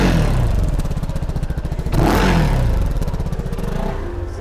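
Close-up revving from a CF Moto NK 300 300cc motorcycle: a pulsing engine note that swells in a sharp rev about halfway through, then settles back to a throbbing idle.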